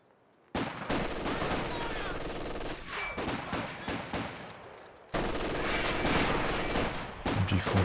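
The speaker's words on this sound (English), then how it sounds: "MG42 setting up there." MG42 machine gun fire in the strategy game Company of Heroes 2, loud sustained bursts of rapid gunfire broken by a short gap, mixed with other battle noise and a commentator talking over it.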